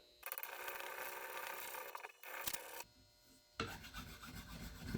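Hand sanding or filing a Winchester XPR rifle stock protected with tape: repeated close, raspy rubbing strokes in bursts separated by short pauses, fairly quiet.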